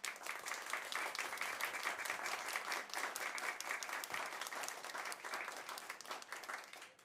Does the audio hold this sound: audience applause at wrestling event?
yes